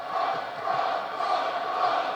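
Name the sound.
wrestling crowd cheering for Will Ospreay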